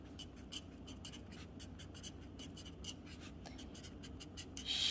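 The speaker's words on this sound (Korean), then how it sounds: "글씨는 먼저 여기다가 써볼게요" Handwriting with a pen on a calendar, close, quiet scratchy strokes in a steady rhythm of short bursts, no talk.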